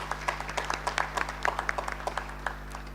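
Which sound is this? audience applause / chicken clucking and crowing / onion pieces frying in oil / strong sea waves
audience applause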